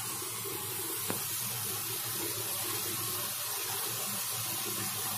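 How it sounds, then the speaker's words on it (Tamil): Water poured into a pan of chicken curry with ground masala, a continuous splashing, faucet-like rush at moderate level with one brief clink early on. "நல்லா தண்ணி ஊத்தி ஊத்திக்கலாங்க."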